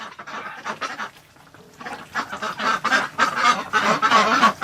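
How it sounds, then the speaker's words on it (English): Ducks kept inside a winter cabin quack continuously in an overlapping, busy chorus nearby, growing louder and denser after a brief lull. "All the ducks are sitting around quacking."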